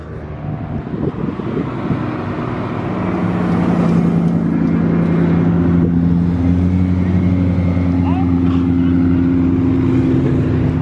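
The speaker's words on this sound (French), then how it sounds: "Il y a la Enzo Carbone qui arrive, la Veyron." A Ferrari Enzo carbon and a Bugatti Veyron hypercar drive past at a supercar owners' gathering, their engines building from a low rumble into a loud, sustained drone with wind buffeting the microphone and no talk.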